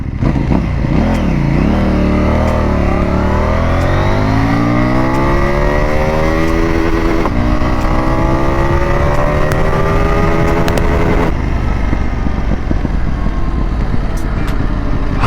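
A CFmoto 800NK motorcycle accelerates hard in first gear toward top speed, its engine note climbing steadily in pitch as a loud, close rev that levels off near the limit, with wind noise throughout.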